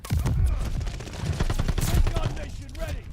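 Rapid bursts of Cooper carbine gunfire from a first-person shooter game, dense overlapping shots close and loud, with someone talking over them.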